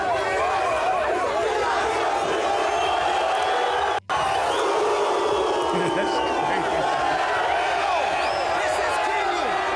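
A large crowd gathered around a streamer in Kenya roars and cheers continuously, a dense wall of loud voices and whoops with steady chatter underneath.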